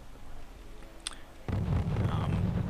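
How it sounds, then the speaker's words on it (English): A mortar shell lands in a war video game: after a quiet stretch with a thin high whistle, a deep rumbling explosion hits and rolls on, moderately loud and somewhat distant. "I'm sort of hitting with a bit of mortar fire"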